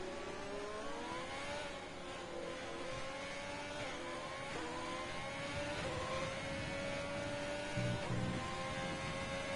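A race car with a faulty gearbox in a PS4 racing game, giving a steady, loud whining engine drone that rises and falls through repeated gear changes for the whole stretch, with no talk.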